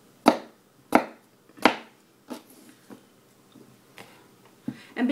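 A kitchen knife cuts red potatoes on a board in a home kitchen: a run of sharp, separate chops at an uneven pace, loud and close at first, with lighter cuts following.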